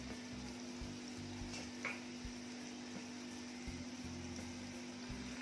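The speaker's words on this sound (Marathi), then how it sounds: "तर सोनेरी रंग येईपर्यंत हे दोन्ही बाजूने छान भाजून घ्यायचं आहे" Dahi vada batter fritters frying in hot oil, a steady even sizzle holding at one level throughout with a constant electrical hum underneath and no talking.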